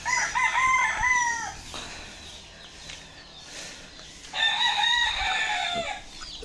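Roosters crow loudly nearby, two long calls separated by a quieter stretch, while hens cluck softly in the background.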